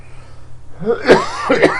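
A single cough bursts out after a moment of near quiet, followed quickly by a second shorter cough, close and fairly loud.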